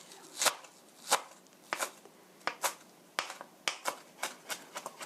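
A knife chops through chives on a cutting board for fried dumplings, about a dozen crisp, sharp thunks at an uneven but steady pace, close and distinct with quiet gaps between.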